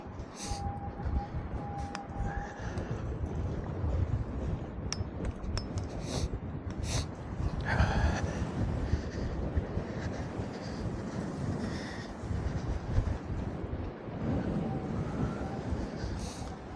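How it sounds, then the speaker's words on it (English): Steady outdoor wind on Lake Guntersville rumbles and buffets the microphone throughout, a constant low roar with brief gusts and faint higher noises. "It is windy for sure."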